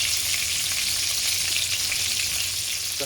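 Rabbit pieces sizzle in a hot pan for a rabbit stew, with a loud, continuous bright hiss and fine crackle throughout and no talking.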